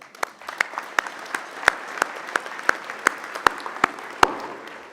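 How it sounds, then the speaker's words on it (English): Sparse clapping from a small group, individual claps distinct and uneven, moderately close with no cheering. "So for the executive board, a round of applause."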